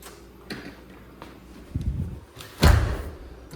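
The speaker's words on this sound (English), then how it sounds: "Lock that door." A door at a lodge building is pushed shut with a dull thump and latched, followed by a heavier knock as it is locked, all in a quiet, slightly echoing room.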